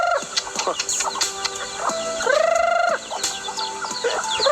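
Chickens cluck in a farmyard alongside ducks, a busy run of short clucks and squawks with one longer rising call, close by and fairly loud.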